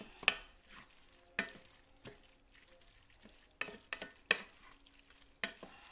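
Seasoning and salt get stirred into cowboy casserole ingredients, with a spoon scraping and tapping in several sharp, close strokes separated by short quiet gaps, fairly soft overall.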